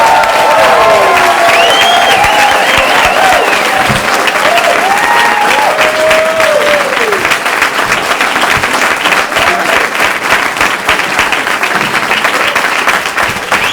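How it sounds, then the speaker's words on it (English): Loud, sustained applause from a comedy-club audience welcoming comedian Jonathan Katz, with scattered whoops and cheers rising over dense clapping that holds steady throughout. "Please, a nice round of applause, Mr."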